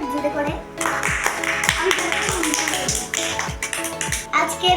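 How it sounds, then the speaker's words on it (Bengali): Hands clap repeatedly at a home noodle challenge in Bangladesh, a run of sharp, close claps in an uneven rhythm over talk and background music. "আমার জন্য সবাই একটা হাততালি দেন জোরে করে।"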